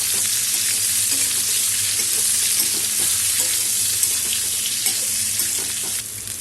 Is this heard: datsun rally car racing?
no